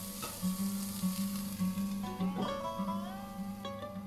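A mixture of vegetables with beans is stirred in a pot for soup and sizzles steadily, with soft scraping strokes and a brief clatter near the middle, close and fairly quiet, without talk.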